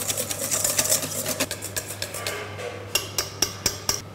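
Double cream and icing sugar being whisked in a bowl, a rapid rhythmic rattle of the whisk against the bowl that settles into a few sharper, spaced taps near the end.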